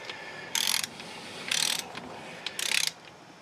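A wrench ratchets while torquing engine bolts in a cross pattern on a Kohler Command Pro V engine, three short bursts of rapid pawl clicking, close and moderately loud, with pauses between them.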